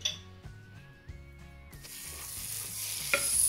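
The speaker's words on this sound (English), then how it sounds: "we have added the spice paste to the onions and the tomato puree, and we just fry it for some time" Spice paste frying with onions and tomato puree in a pan, a steady sizzle that builds and grows louder once stirring starts, with a clink of the utensil near the end, heard over soft background music.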